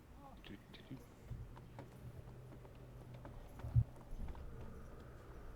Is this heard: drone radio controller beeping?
no